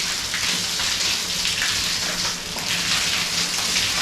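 Water pouring straight down from a pipe overhead, a continuous, fairly loud splashing rush like heavy rain hitting a surface, steady for the whole stretch with no talk.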